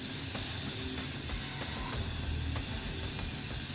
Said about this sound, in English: let's spray some paint